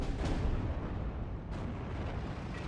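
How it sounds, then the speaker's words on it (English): Aircraft bombing strike in the Steel Division: Normandy 44 video game, a dense continuous rumble of heavy explosions with sharper bursts near the start and midway, loud and unbroken throughout. "So just gonna be coming in for the bombing strikes there."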